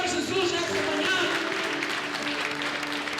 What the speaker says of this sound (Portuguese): Você pode aplaudir o Senhor Jesus nessa manhã?